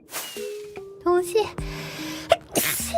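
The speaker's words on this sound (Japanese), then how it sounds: "くしゃみです。" A woman sneezes several times in quick, small bursts, close and clear, each followed by short breathy reactions and a bit of talk.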